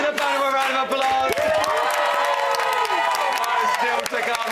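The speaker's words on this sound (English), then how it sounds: "Give the band a round of applause." Studio audience claps and cheers for a band on a live reality TV show, a dense steady wash of applause with whoops, while a loud voice rises over it.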